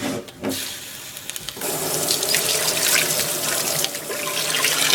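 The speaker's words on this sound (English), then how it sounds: "And now we're washing it out." A pan is rinsed under a running kitchen tap after cooking eggs for a sandwich: a steady close hiss of flowing water, with splashes and a brief change near the start, and no talking.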